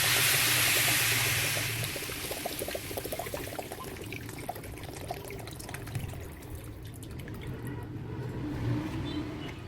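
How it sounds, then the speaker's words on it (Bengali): Water pours into a cooking pot of khichuri with a strong rushing splash at first, settling into quieter trickling and bubbling with scattered small clicks. "এখন জলের পানি অ্যাড করে দিলাম"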